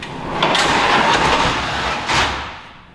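An RV slide-out extends with a steady mechanical whir and grind that swells and then fades toward the end, loud and close, with no talking.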